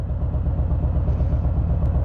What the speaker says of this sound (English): Okay, so I'm idling right now and it sounds different.